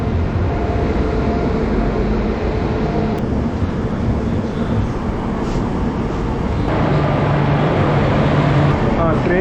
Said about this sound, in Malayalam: ട്രെയിൻ എത്തി.